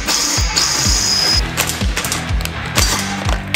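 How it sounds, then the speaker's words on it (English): Power drill boring a hole for copper pipe after center punching, bit repeatedly biting and stalling in short grinding bursts, loud and close with a busy rhythmic chatter. "your drill doesn't like it"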